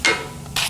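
Two sharp hammer strikes drive the shoulder into a new steering rack on a Jeep Patriot, close and distinct with a short pause between them.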